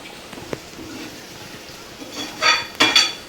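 Paneer stirred in a pan with a spoon, faint scraping for a while, then two louder metallic clanks and scrapes against the pan near the end, close by with no talking.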